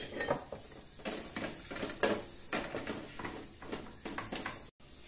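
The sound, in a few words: garlic added to hot olive oil in a pan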